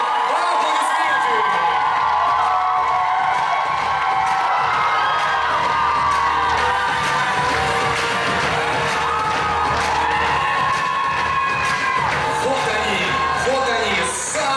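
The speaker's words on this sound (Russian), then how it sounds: "Под ваши громкие аплодисменты!" A student crowd at Buryat State University's Miss and Mister University 2019 pageant cheers, whoops and shouts loudly and continuously, with some clapping and a tonal musical bed underneath.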